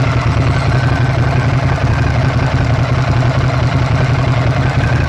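A Ducati ST3 motorcycle engine idles steadily up close, a constant low rumble with no breaks and no voices.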